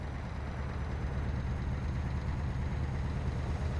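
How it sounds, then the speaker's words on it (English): Truck engine in Euro Truck Simulator 2, a steady low rumbling drone with constant broadband road noise, continuous and even in level throughout. "I like the sound of this engine, though."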